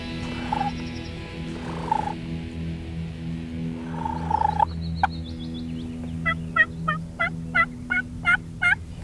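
Wild turkeys gobbling in the field, a run of sharp, rattling gobbles repeating in quick bursts in the second half, preceded by softer purring calls, fairly close with a steady low background hum.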